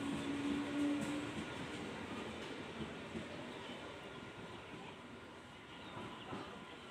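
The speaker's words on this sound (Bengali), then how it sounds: "এই দেখুন 2 নম্বর প্ল্যাটফর্ম থেকে আরেকটা ট্রেন ছেড়ে চলে যাচ্ছে" A train departing Fulia railway station rumbles steadily at moderate distance, a broad low roar with a brief horn-like tone at the start, fading slowly as it moves away.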